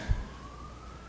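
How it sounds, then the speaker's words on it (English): A police car siren wails faintly in the distance, a thin steady tone that drifts slightly in pitch as it passes. A brief low thump comes at the start, with no talk. "And there goes the police car after the motorbike."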